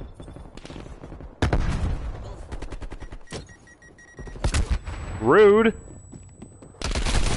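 Intermittent bursts of automatic gunfire crackle through a shooter video game match, loud and close, broken by gaps and overlapped by voices talking, with an electronic whistling tone rising and falling in the middle.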